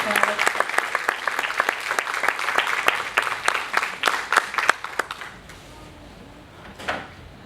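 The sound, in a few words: audience applause at seminar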